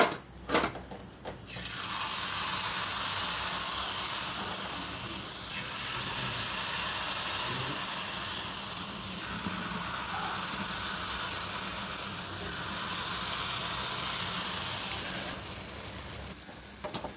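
Jalebi frying in hot oil in a home kitchen, a steady dense crackling sizzle that holds evenly throughout after a brief clatter at the start, no talk.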